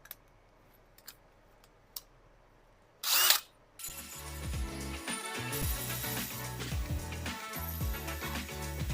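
A drill spinning a wire wheel strips metal from Subaru Brumby control arms, starting after a few faint clicks and a brief burst, then running loud and steady with a harsh, scratchy grind that varies as the wheel bites.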